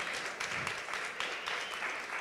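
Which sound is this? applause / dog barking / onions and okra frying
applause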